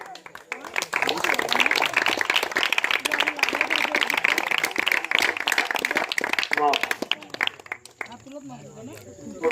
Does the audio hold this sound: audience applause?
yes